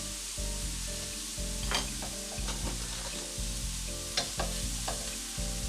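A tablespoon or so of butter melts and sizzles in a hot pan for breakfast-burrito eggs, a steady close fry with occasional scraping clicks over a low, steady tonal hum.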